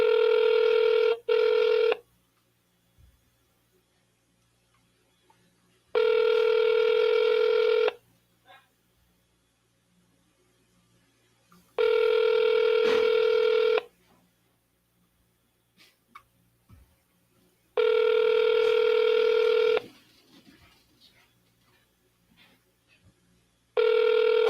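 A telephone plays bursts of tonal dialing and ringing, four loud, evenly spaced blocks of about two seconds each separated by near silence, with no talking.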